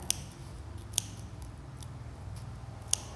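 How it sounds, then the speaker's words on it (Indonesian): Scissors cut paper for a folded paper craft of a Rumah Gadang house, giving a few sharp, isolated snips spaced across a quiet room with low background hum and no talking. "Yang nomor 2 ya kita gunting."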